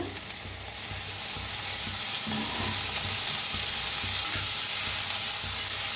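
Onion frying in oil in a pan for a dhaba-style paneer potato masala, a steady dense sizzle that continues unbroken and fairly loud throughout, close up with no talking.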